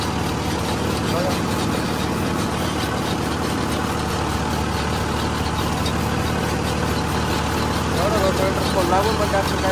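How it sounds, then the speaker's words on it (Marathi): A Farmtrac 60 PowerMaxx 3-cylinder tractor engine runs steadily at a constant low rumble, loud and close, pulling a rotavator in a field while someone talks over it. "Pharma track 60 power max 3 cylinder tractor आहे."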